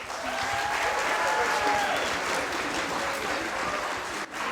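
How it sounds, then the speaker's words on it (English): A school audience applauds the Forsan Junior High band at a spring concert, a steady, full wash of clapping that holds evenly throughout, with faint voices mixed in. "So we can give them a round of applause, please"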